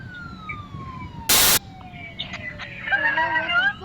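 A police car siren sounds in traffic, its wail sweeping downward and then rising into warbling tones near the end, with a loud burst of broadband noise cutting in briefly and faint voices underneath.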